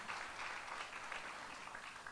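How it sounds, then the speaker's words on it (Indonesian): Steady applause from a congregation at a Sunday church service, dense clapping filling the whole stretch at an even level with no talking. "Berikan tepuk tangan."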